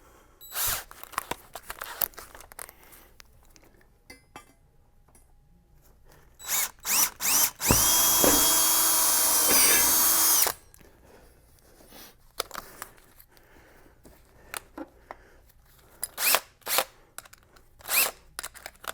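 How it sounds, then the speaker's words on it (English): A power drill whines loudly for about three seconds, boring a pilot hole through a carpeted fiberglass trunk floor of a C6 or XLR, with scattered knocks and handling clatter before and after. "Go ahead and drill us a pilot hole."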